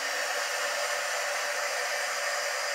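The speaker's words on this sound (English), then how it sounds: "I get my super hot heat gun." A heat gun blasting hot air to loosen label glue on a planter, a steady loud hiss of rushing air that holds unchanged throughout, close and alone.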